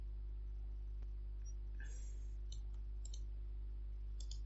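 Keys clatter on a computer keyboard as a domain name is typed, a few quick clusters of light clicks over a steady low electrical hum, close and faint.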